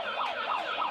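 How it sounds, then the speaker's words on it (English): Siren sounding at a girls' hockey tournament match, a steady rising-and-falling wail repeated about three times a second, loud and alone. "the siren going on"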